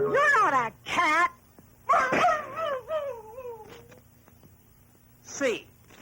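A voice imitating a cat meowing, with several drawn-out, wavering mewing and whining cries in bursts, close and fairly loud, separated by short pauses, in a children's educational television programme.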